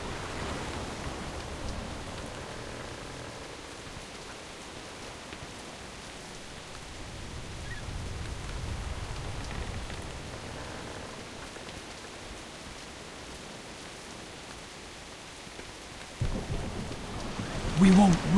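Rain pours steadily in a World of Warcraft cinematic scene, with low rumbling thunder rolling underneath and swelling again near the end.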